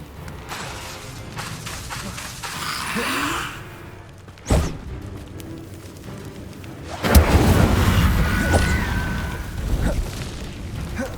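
Incendio fire spell cast in Hogwarts Legacy on a game, a sudden whooshing burst followed later by a louder roaring blast that lingers, with a voice calling out between them.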